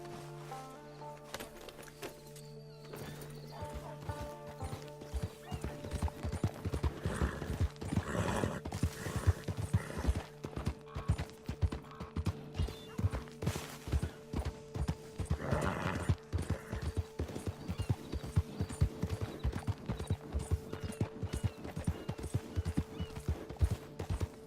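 A horse in the Red Dead Redemption Online video game, with steady clip-clop hoofbeats at a walking pace and occasional whinnies and snorts, close and continuous, with no talk.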